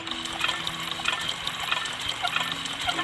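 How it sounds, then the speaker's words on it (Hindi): A hand pump draws water in a farming video game, with a steady trickling, splashing flow and faint rhythmic knocks underneath. "हैंडपम्प से पानी निकालना पड़ेगा"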